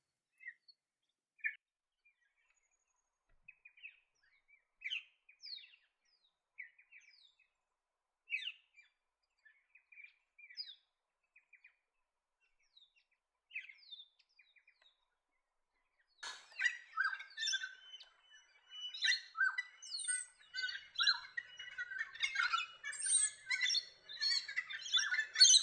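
Peaceful doves in a park in Cairns give soft, sparse calls that grow into a busier stretch of overlapping chirps and tweets, faint and fairly distant.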